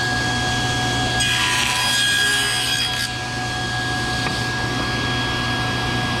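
A saw blade cuts through wooden corner trim for cabinets in one steady, continuous pass, with a rasping bite that rises briefly in the middle over a constant motor hum. No one speaks.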